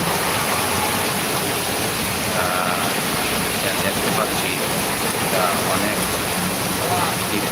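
Rain pours steadily onto the Dhaka–Tangail highway, a dense constant hiss with faint traffic and engine rumble mixed underneath throughout.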